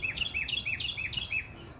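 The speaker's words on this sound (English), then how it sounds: "Oh, you hear that bird, y'all?" A bird sings in a garden, giving a run of bright, rapid chirping phrases that repeat for about a second and a half, fairly close and clear over a low background rumble.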